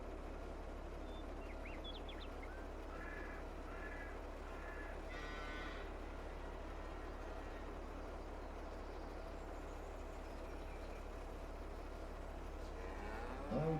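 Cows moo repeatedly in the Farming Simulator 22 video game, several drawn-out calls in the first half over a steady low engine-like drone, with quieter mooing continuing afterward.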